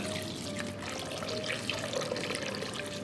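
A rinse under a running tap washes a shelled West African lobster, its meat already removed; water streams steadily and close for the whole short stretch, with a soft splashing texture and no voices.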